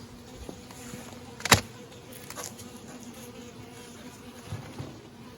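Honey bees buzz steadily around a hive outdoors, a continuous insect drone with one brief louder pass close by and softer passes later.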